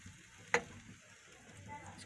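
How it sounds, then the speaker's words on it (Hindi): Whole-spice dhaba-style masala for matar paneer frying in oil gives a low, steady sizzle at close range, broken once early on by a single sharp clink or pop, with no talking. "भून लेते हैं जब तक ये तेल ऊपर नहीं आ जाता, तब तक उसको भूनते रहते हैं।"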